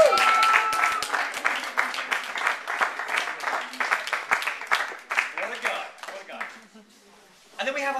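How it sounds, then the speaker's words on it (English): Audience at a human rights congress applauds in a sustained burst of clapping that thins out near the end, while a voice speaks over it. "Let's give a special clap."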